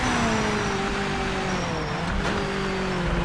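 A race car engine in Project Motor Racing drones steadily through a qualifying lap, holding a loud, sustained tone with slowly shifting pitch and no talking.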